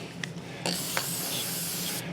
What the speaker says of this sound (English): You spray it on the back side